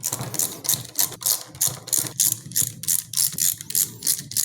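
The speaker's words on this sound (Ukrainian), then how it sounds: "Наступне, що ми будемо розбирати, зараз відкрутимо поршньову і якраз подивимося, в якому вона стані." Ratchet wrench loosening the cylinder on a Yamaha Jog 3KJ scooter engine during teardown: a steady run of rapid, close metallic clicks in regular bursts, loud and clear with no talking.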